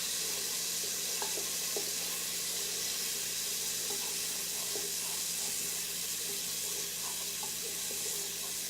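Garlic sizzles quietly in a pan for Italian sausage soup with a steady, soft crackle and occasional faint pops throughout.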